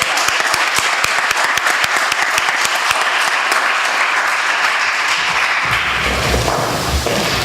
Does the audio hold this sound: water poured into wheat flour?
no